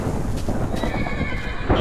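A horse neighs and whinnies in the Minecraft video game, a loud, close, continuous call that holds for the whole stretch and swells slightly near the end, with hoof clip-clop mixed underneath.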